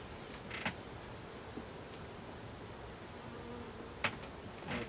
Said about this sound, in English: These bees are amazing.